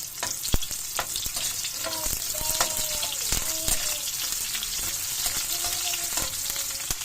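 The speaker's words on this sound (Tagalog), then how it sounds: "Yan, gisa natin ang ating mga sangkap" White onion sautéing in a pan for ginisang ampalaya with eggs: a steady, close sizzle runs throughout, with a few sharp clicks from the utensil stirring through.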